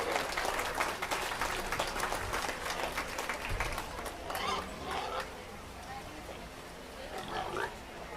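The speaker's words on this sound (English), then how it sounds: "let's give them all a big round of applause" Applause from the audience at a youth swine market show fills the arena, a dense clatter of clapping that carries on steadily with pigs and general barn noise mixed underneath, easing off slightly toward the end.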